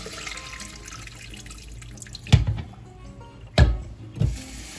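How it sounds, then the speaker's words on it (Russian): Water is poured out of a glass jar of young garlic being soaked before salting, a continuous splashing pour with a few sharp clunks of the jar toward the end. "Эту воду выливаем."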